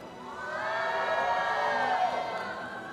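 A large arena crowd at an esports event for the mobile game Honor of Kings cheers and shouts in a loud, sustained roar that swells and holds for nearly three seconds.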